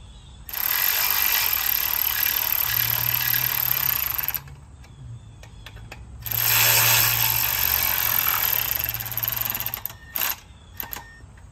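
A Milwaukee power tool drives bolts into a metal hardtop gazebo roof truss, with two long, loud whirring runs of about four seconds each, close up, followed by a few short blips. No one speaks.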